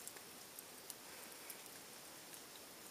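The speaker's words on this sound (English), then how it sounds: "It's all still falling from the trees, but it's not actually raining." Rainwater dripping from trees in woodland near a pond shelter after a night of rain, with scattered faint drops tapping over a soft steady hiss, no voices.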